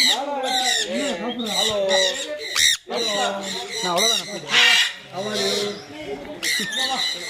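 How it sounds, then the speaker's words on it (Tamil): Large birds squawk loudly and close by in a steady run of harsh, rising and falling calls, with voices talking among them. "இங்கெல்லாம் பெரிய பறவைகள் அது."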